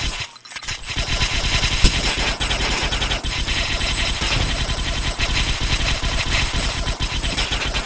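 Rapid, loud machine gun fire from a video game, a continuous stream of sharp bursts that keeps going for several seconds with no talking.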